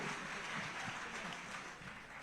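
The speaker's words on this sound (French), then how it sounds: "Encore plus d'applaudissements, s'il vous plaît." An audience at a national civic tax-day ceremony applauds in a steady, fairly distant wash of clapping that stays even throughout.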